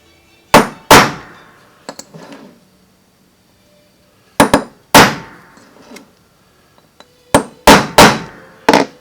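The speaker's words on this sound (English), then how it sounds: "what I do is take a hammer and a punch" A hammer drives a punch into the stake holes on a loose part of a seized, long-idle Cummins CP3 injection pump. Sharp metallic strikes land in close pairs and triplets, loud and near, with short ringing decays and pauses between the groups.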